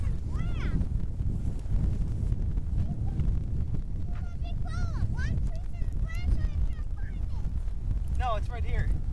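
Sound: wind blowing outdoors at model plane flight

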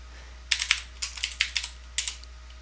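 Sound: computer keyboard typing a git command

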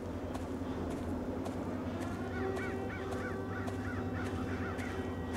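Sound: crow cawing in horror video game

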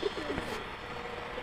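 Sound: pigeons cooing

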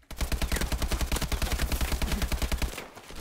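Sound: gunfire in a gun battle, from video game Call of Duty Advanced Warfare

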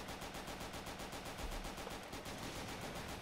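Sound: gunfire shooting an incendiary in the video game Left 4 Dead 2

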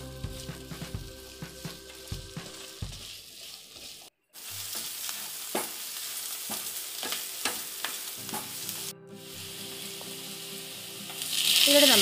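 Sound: onions sautéing in butter until golden brown

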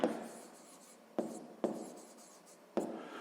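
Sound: writing an equation by hand

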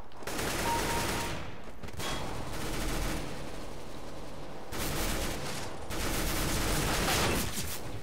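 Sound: gunfire in the video game CS GO

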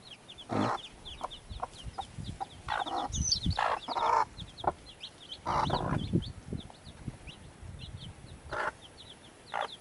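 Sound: Rhode Island Red chicks peeping

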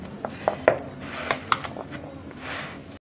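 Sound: mixing chana chaat with chopped onions in a bowl

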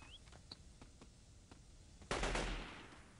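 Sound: gunfire in the video game Delta Force 2

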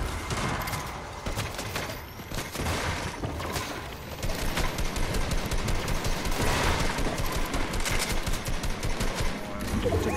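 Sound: gunfire in the video game Fortnite

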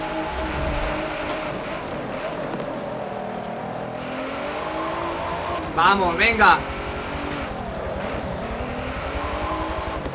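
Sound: car engine racing in video game Forza Motorsport 7

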